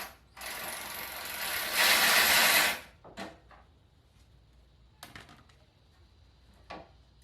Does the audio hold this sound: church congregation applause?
no